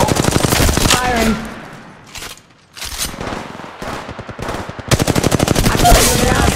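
Automatic gunfire in Apex Legends Mobile on an iPhone 11 rattles in rapid, loud bursts, pausing briefly in the middle before resuming in dense volleys, close and sharp throughout.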